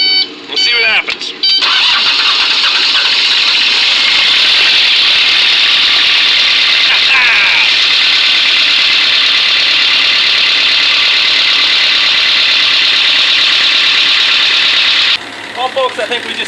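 A diesel excavator engine with glow plugs and a fuel gelling problem cranks and catches, then settles into a loud, steady, close idle with a rough mechanical rattle. Voices are heard briefly at the start and the end.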